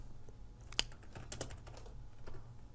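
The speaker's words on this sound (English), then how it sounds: "I type" Keyboard typing on a computer while entering text into an HTML button: a short burst of a few quiet key clicks, faint and close, with no voices.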